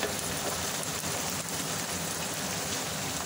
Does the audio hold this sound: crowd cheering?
no